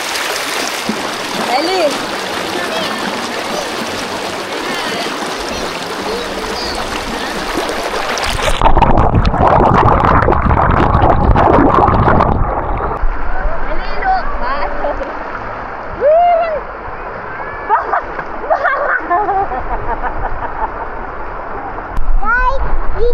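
River water flows steadily at a campsite, a broad rushing wash with occasional splashes, under people talking and calling out.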